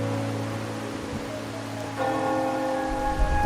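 Steady rain in the video game Wuthering Waves, a soft continuous patter with a layer of sustained musical tones that grows slightly fuller partway through.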